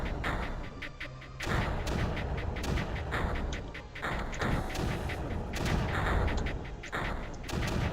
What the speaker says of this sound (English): Fire off a shot to purge some of that creeper